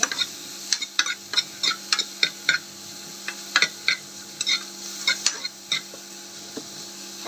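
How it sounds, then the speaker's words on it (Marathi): Onion and curry leaves frying in a pan, a soft sizzle punctuated by quick, regular scrapes and taps of a spatula stirring, close and fairly quiet. "कढीपत्ता घालायचा. कांदा टाकायचा."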